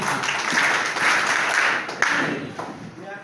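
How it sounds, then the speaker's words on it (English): Applause from an audience at a school event as a teacher is called up, a soft, fairly distant patter of clapping swelling and easing over a few seconds. "Let's clap for Mr. Moses"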